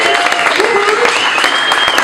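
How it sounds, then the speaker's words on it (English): An audience claps in a sustained round of applause at a family gathering honoring an 82-year-old father, steady and fairly loud throughout with a few faint voices mixed in. "Round of applause for my dad."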